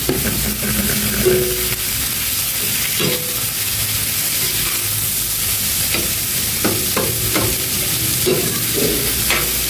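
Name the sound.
bitter gourd (ampalaya) added to pan, frying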